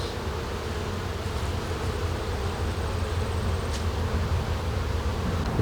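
Steady, dense buzzing of many honey bees at a hive opened during an inspection, a continuous close drone with no talk.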